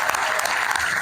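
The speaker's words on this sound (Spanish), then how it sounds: "Un aplauso para él." Audience applause at a book presentation at the 49th Buenos Aires book fair: a brief, steady, even burst of many hands clapping, filling the room at full level without pause.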